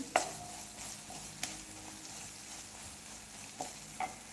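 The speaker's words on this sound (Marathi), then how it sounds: "मीठ हे छान असं मिक्स करून घ्यायचं आहे" Food sizzles steadily in a pan while a spoon stirs salt through it, with a few light knocks against the metal; no voices.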